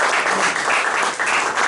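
A church congregation gives God a strong round of clapping, a steady dense burst of many hands close by, with no voices over it.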